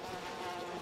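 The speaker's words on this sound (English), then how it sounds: "That's bees." Insect buzzing from bees in the video game We Happy Few, a steady droning hum that stays continuous and fairly even throughout, with no talking.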